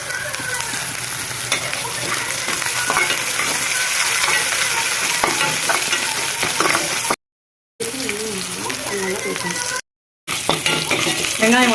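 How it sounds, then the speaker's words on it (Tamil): Onion, tomato, curry leaves and green chilli sautéing in a pan for a banana-stem dish, a loud continuous sizzle with scraping stirs and two brief cuts to silence, no talking. "நல்லா வெங்காயம் தக்காளி எல்லாம் வதங்கிடுச்சு"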